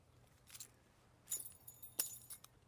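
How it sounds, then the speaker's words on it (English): A set of keys pulled out of a pocket jingles in a few short metallic bursts, close and fairly quiet against a faint background hum. "this set of keys out of my pocket."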